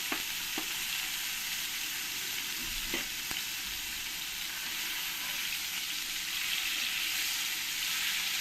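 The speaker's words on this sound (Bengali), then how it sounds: "পনিরগুলোকে ভালো করে ভেজে নেবো" Paneer pieces frying in hot oil in a pan, giving a loud, constant sizzle close up, broken by a few faint clicks of movement in the pan and no talking.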